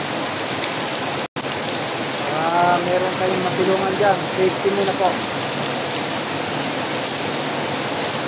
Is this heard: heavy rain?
yes